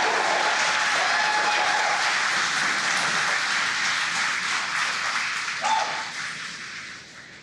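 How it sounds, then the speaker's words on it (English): A crowd cheers and applauds during a SpaceX launch at stage separation, a broad roar of clapping and shouting that runs steadily for several seconds and then slowly fades. "as you can hear the cheering in the background"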